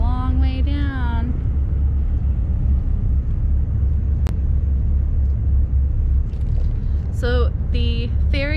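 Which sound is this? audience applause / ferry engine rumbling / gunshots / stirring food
ferry engine rumbling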